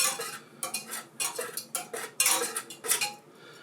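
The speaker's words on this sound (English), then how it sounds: "I'm going to take a whisk and I just want to mix that around a little bit." A whisk mixes yeast into water for pizza dough, producing quick rhythmic metallic clinks and swishes against a bowl in short bursts, close and alone.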